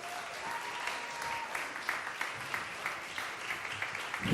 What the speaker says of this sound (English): Please give a warm round of applause for our 2 cast members, Mr. Theo Harris and his wonderful wife, Phyllis, who will come later.